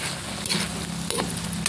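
Pork and chicken adobo with soy sauce and vinegar stirred in a sizzling pan, a dense close frying hiss broken by a couple of louder scraping stirs.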